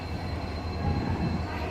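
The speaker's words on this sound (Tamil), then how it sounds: "ஸோ நம்மளோட ட்ரெயின் வந்துருச்சு. ஸோ இப்போ கப்புளிங், அந்த லோக்கோ கப்ளிங் பண்ணுவாங்க" A steady low rumble of a train locomotive arriving for coupling at a station, moderately loud and continuous, with a faint high whine above it.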